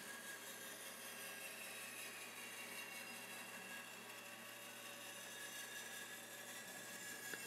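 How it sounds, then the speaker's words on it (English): A bandsaw cuts through an ebony strip covered with duct tape, giving a faint, steady whirring hiss with a thin high whine that holds evenly for several seconds with no talk. "I'll put a piece of duct tape over the top and then run that strip through my bandsaw"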